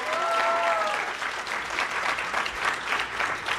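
Live audience at a wrestling podcast taping in Cleveland applauding steadily, a dense clapping crowd with a few whistles early on, holding at an even level throughout.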